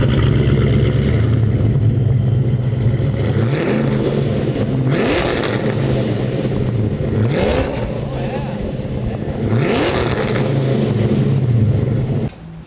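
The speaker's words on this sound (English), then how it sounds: "now we're gonna be testing out the Spintek exhaust" A car engine fitted with a Spintek aftermarket exhaust idles with a deep exhaust rumble, then revs sharply three times in spaced bursts, each climbing and falling back to a throaty idle.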